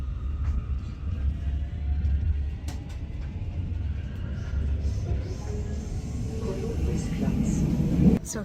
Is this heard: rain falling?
no